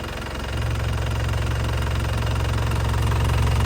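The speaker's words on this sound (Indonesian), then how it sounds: "sambil kita hidupin mesinnya" A 2011 Isuzu Panther LS Turbo diesel engine idles while warm, a steady low rumble with a rapid, even knocking clatter that steps up slightly in level early on, close and alone.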